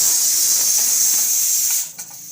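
After two whistles, a kitchen pressure cooker vents steam in a loud, continuous close-up hiss that suddenly cuts off and leaves a faint sputter.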